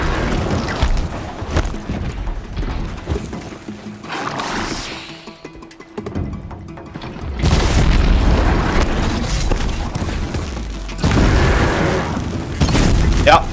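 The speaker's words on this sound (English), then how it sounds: "He's gonna explode." Booming explosions and crashing from a machine blowing up in Horizon Zero Dawn come in loud bursts with a quieter gap between them, while someone talks over parts of it.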